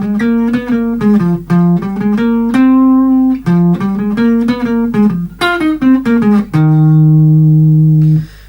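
A fast guitar riff, played as a quick run of bright, clean picked notes in a rapid rhythm, ending on a long sustained note, alone without any voice.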